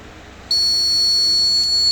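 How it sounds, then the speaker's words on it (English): A buzzer on an MQ7 gas sensor monitoring system built with a Raspberry Pi sounds a high, steady electronic beep that starts abruptly and holds continuously, loud and close. "so it gives a beep alert when it reaches its threshold value"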